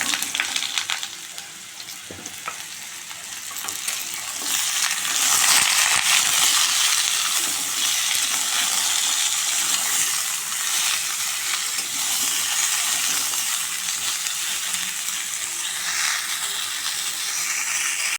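Chopped, pre-washed vegetables hit a hot pan with a loud, steady sizzle and crackle for home cooking, the hiss swelling a few seconds in and holding broad and close throughout with no voices.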